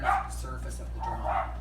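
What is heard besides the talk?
dogs barking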